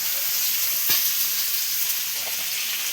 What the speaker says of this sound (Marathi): मच्छी झाली पूर्ण फ्राय.